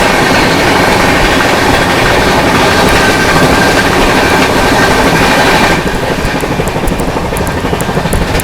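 An AC Duronto Express train overtaking the Kota Vadodara Express on a diverted route, heard from on board as a steady, loud rumble and rattle of rail cars that continues throughout, easing slightly near the end.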